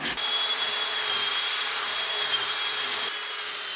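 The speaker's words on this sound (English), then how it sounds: "before I join the two pieces, I need to sand them properly and get rid of all the marks" Sandpaper rubs steadily across glued wood pieces in close, continuous strokes with a brief break near the end.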